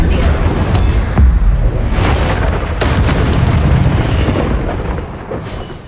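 Fire spell blasts in Hogwarts Legacy, loud whooshing bursts and booms over a dense, continuous rumble of game combat, with several sharp eruptions in quick succession.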